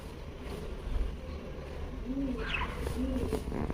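Small blue and green pet birds in a cage, eating grass, give a few soft, close calls over a faint steady room hum, with no talk.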